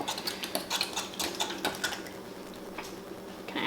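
Eggs and thawed spinach whisked together in a bowl, giving a quick, faint clatter of utensil against the dish with brief irregular taps and no talking.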